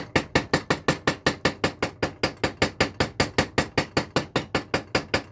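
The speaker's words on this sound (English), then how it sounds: "So I then put my rivet head into there and then just take the hammer." A light hammer taps a rivet head with steady, quick, even blows, roughly four or five per second, close and clear with bright metallic ring and no talk.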